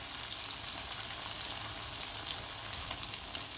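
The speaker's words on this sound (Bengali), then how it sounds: "মাছ ভাজা ভাজা করে ফ্রাই করে নিব খুব সুন্দরভাবে" Pieces of river rui fish fry in hot oil in a pan, giving a steady, fairly quiet sizzle with faint crackles and pops throughout.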